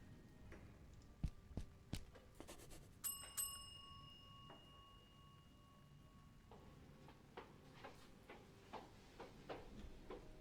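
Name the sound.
door bell ringing in video game Gibbous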